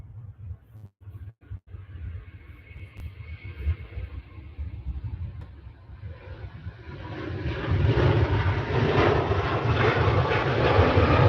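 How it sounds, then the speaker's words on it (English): An airliner takes off at Manchester Airport, its jet engines rumbling at a distance, then swelling into a loud, broad roar as it accelerates down the runway and climbs away. "What a lovely takeoff. Absolutely amazing takeoff that was."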